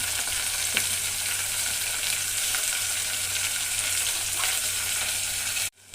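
Green chillies, ginger garlic paste, tomato, mint and coriander fry in a pan with a dense, steady sizzle and the occasional scrape of stirring. The sound stops abruptly at the end, and there is no talking.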